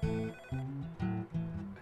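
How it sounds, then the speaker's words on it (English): A telephone rings in repeated electronic bursts, two-tone trills in a steady on-off rhythm, loud and close with no voices over it. "I have another phone call coming in"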